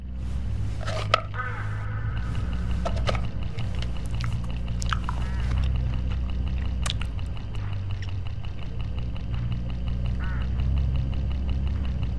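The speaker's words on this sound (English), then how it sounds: "Look, hooded crows all along this road." Hooded crows in the video game HitchHiker call from along a roadside: a few short, harsh caws come early, over a steady low rumbling hum that carries on throughout.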